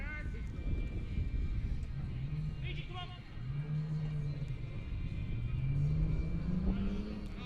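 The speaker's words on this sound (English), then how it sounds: "Excuse the background noise of the cars." Cars pass along a busy main road in Clayton beside a pennant cricket match, a steady low rumble with engines rising and falling in a few swells, while people talk over it.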